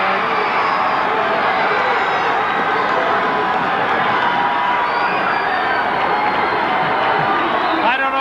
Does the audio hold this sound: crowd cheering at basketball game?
yes